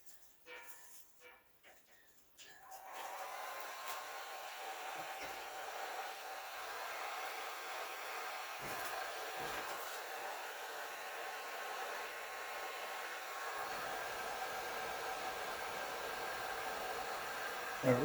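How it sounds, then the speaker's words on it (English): A heat gun blows on a frozen snowblower cap outdoors in New York, switching on after a few quiet seconds and then holding a steady, loud, close airy roar until the end. "Oh, hey, the heat gun to it."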